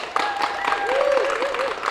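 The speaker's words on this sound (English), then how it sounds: "Can we get a big round of applause from the crowd?" A crowd applauding a guest on a school podcast about a kindergarten geology project, brief loud clapping with a tonal voice-like sound over it.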